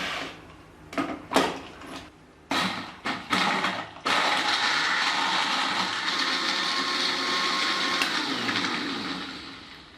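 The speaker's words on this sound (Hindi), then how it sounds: "तो चलें अब हम इसको ब्लेंड कर लेते हैं" A blender churns an Oreo milkshake with ice: a few sharp knocks and clunks come first, then a loud, steady whirring grind runs close up to the end, with no talking.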